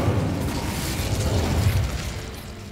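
Incendio fire spell cast in Hogwarts Legacy, a dense roaring, crackling burst of flame that holds steadily for a couple of seconds, loud and close, with no voices.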